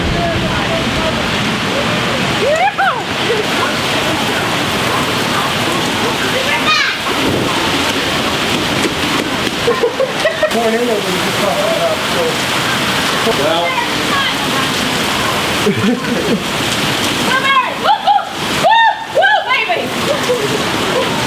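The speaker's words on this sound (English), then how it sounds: "It's about to start pouring." Heavy rain pours down outdoors during horseshoeing in the mud, a constant loud hiss and splatter, while several people talk and call out over it.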